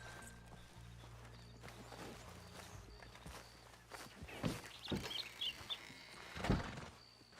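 Horse hooves clop on the ground in the Red Dead Redemption 2 video game, a few irregular footfalls and thuds growing louder near the end over a low background hum.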